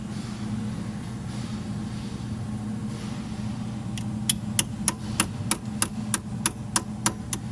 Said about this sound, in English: then I'll just hammer the extension in there just slightly and then zip it off